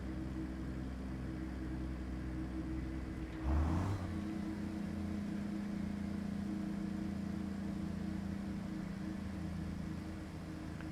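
A dump truck's Jake brake in American Truck Simulator rumbles as a low, steady engine drone. Midway through, a brief harsher burst swells, then the engine settles back into its deep hum.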